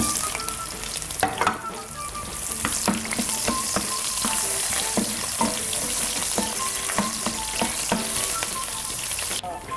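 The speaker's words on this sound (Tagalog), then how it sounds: "Magigisa muna tayo ng bawang at sibuyas." Garlic and onion sautéing in a pan for cheesy kaldereta, a loud continuous sizzle close up, punctuated by a rapid series of spatula taps and scrapes throughout.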